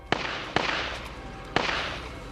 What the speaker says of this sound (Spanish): Escuché varios disparos seguidos.